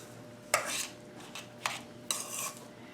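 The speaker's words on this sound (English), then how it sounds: "And we're just going to mix this around." Sushi rice being stirred with vinegar in a bowl, a few scraping, clinking strokes of a utensil against the dish, quiet and close with short pauses between them.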